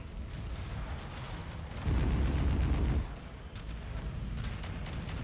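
Long-range missile fire and explosions in the MechWarrior video game, a steady rumbling barrage throughout, swelling into a loud, dense burst of rapid impacts for about a second midway before settling back to continuous booming.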